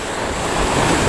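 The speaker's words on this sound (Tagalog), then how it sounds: "Tapos nabasa pa tayo sa alon. Malakas ang alon." Strong ocean waves at sea during a fishing trip, a loud, continuous wash of surf and wind rushing across the microphone, dense and unbroken.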